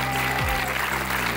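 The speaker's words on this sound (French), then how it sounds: "On peut les applaudir, hein?" Continuous audience applause at an official film festival ceremony, a dense wash of clapping from a sizeable crowd, steady and moderately loud throughout.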